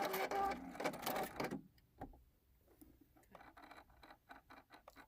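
A sewing machine runs an applique stitch on a quilt block, a loud rapid rattle for the first second and a half, then stops, followed by quieter clicks and small handling taps.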